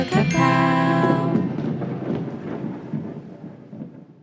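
A thunder sound effect played during a tabletop fantasy role-playing game, starting with a bright chiming tinkle and then rolling into a loud, sustained rumble that slowly fades over several seconds, with no voices.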